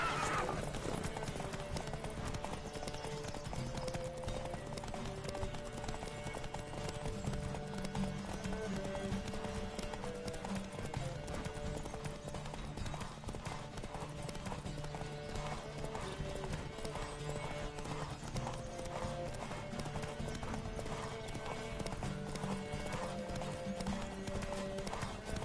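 Video-game horses gallop in a steady, rapid clip-clop with occasional neighs, continuous under a music-like backdrop and scattered voices.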